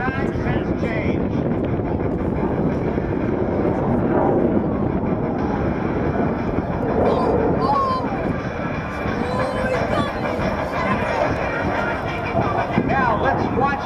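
Continuous rough drone of an airplane engine during a minimum radius turn to a tail stand, heard with wind buffeting and a voice talking over it throughout.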